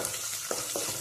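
Cut ivy gourd frying in hot oil, a continuous soft hiss with two brief scraping stirs close by.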